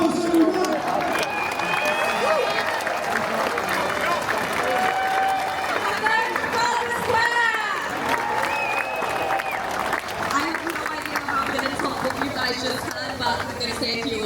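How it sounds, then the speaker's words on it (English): A crowd applauds and cheers continuously, a sustained wash of clapping mixed with voices and excited shouts, fairly loud and steady. "Give her a round of applause, everyone."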